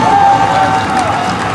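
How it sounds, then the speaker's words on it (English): Football crowd at Tiger Stadium in a Douglas County versus Chapel Hill game, a dense, loud roar of cheering voices with a sustained whistle-like tone running through the brief burst. "the crowd here at Tiger Stadium, they're trying to cheer on another victory over Chapel Hill"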